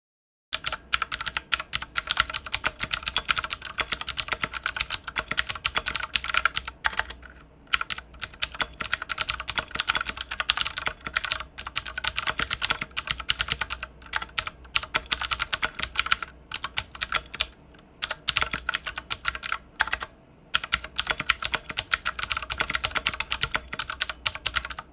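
Fast, steady typing on a mechanical keyboard with clicky blue switches and red keycaps, sharp crisp clicks in quick bursts with a couple of brief pauses, close and alone.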